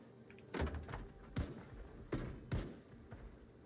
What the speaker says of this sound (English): I hear a few zombies banging on the door